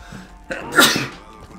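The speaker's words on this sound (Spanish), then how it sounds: "Voy a estornudar, gente" A single loud, close sneeze bursts out in one sharp explosive release, with a quick intake of breath just before it, during a Rainbow Six Siege gaming session.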